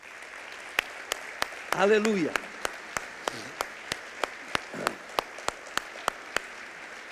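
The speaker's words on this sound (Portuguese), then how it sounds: "Agora uma salva de palmas para o Espírito Santo." A church congregation at an Easter service claps in a steady, evenly spaced rhythm of sharp beats, with a voice calling out briefly in the middle.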